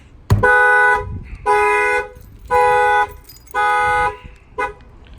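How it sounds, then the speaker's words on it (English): The factory alarm of a 2019 Dodge Challenger sounds its horn in four loud, evenly spaced one-second blasts, then starts a fifth, close by in the open with no talking. "The factory alarm will go off now."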